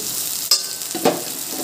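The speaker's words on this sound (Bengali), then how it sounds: "তো এটাকেও একটু ভালো করে ভেজে নিতে হবে কাঁচা গন্ধটা যাওয়া অবধি" A paste of green chili, ginger and garlic frying with onions for a prawn malai curry: a continuous close sizzle broken by two brief stirring scrapes.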